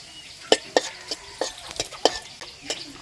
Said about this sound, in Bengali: ওই তেলে ফোড়নে দিয়ে দেব গোটা গরম মশলা